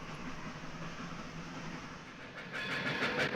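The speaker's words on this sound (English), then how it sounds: "It was called a steam locomotive." A steam locomotive train rumbles along with a low, continuous rolling noise, then a burst of rhythmic chuffing and clatter comes in near the end, fairly faint and distant.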